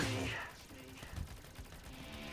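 Machine gun fire in the vehicle combat game Crossout, a burst of rapid mechanical shots, loud at the start and then continuing more faintly with clattering rhythm; a voice speaks briefly over it.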